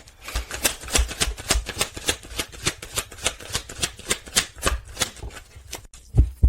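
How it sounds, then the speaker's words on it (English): Tarot cards shuffled by hand in quick, steady riffling bursts, a rapid run of crisp papery flicks that stays close and even, with a couple of louder snaps near the end. "I'm going to draw the next card again."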